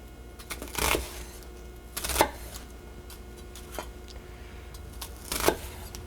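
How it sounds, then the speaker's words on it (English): A kitchen knife dices a whole medium onion on a cutting board for pork and bean chili, giving a few sharp, scattered knocks over a low background hiss. "I'm going to chop this whole onion."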